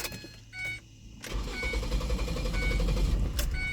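A car engine with a P0400 fault cranks and restarts after a few seconds of quiet clicks and whirring, then settles into a loud, rough, loping idle that rumbles on to the end.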